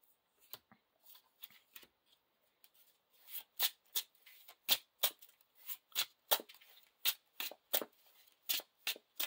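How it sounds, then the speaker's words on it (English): A deck of cards being shuffled repeatedly, crisp riffling bursts coming faster and louder after a few quiet taps. "Shuffle your deck."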